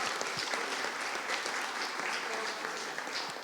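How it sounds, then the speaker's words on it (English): Audience clapping at a wedding for the couple's family, a steady dense patter of many hands held for several seconds with a voice faintly underneath. "Applause for Jean and Ashley's mom and everyone else who, can we clap, please?"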